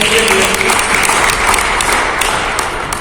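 An audience at an indoor training session for Honey Herbal India breaks into loud, sustained applause, a thick wash of many hands clapping close by, with a faint voice briefly audible at the start.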